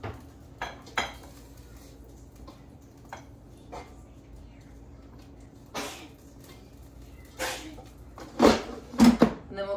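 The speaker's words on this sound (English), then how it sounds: "So we'll flip the bacon." Bacon being flipped in an air fryer basket: scattered metallic clinks and rattles of the basket and utensil, a few sharp close clatters near the end, over quiet background hum.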